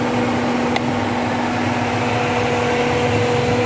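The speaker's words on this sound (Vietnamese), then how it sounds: "Thì tiếng máy nổ rất là ok. Ngoài xe này nổ máy rất là ngọt." A Fiat Siena 1.6 idles, its engine giving a steady, even hum with a constant tone and no revving. A short click-like sound breaks in briefly early on, and no one speaks.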